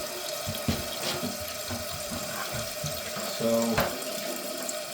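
Water runs steadily as a toilet tank refills through a newly installed fill valve, a close continuous hiss and trickle with someone speaking briefly over it.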